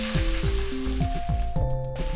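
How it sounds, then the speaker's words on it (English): Two chopped onions sauté in a hot pan, giving a steady close sizzle that runs unbroken for the whole short stretch, with tonal sounds layered over it. "we're going to add in 2 chopped up onions. And let's saute these until they're translucent."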